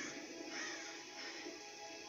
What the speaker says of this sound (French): ils m'ont fait peur les oiseaux.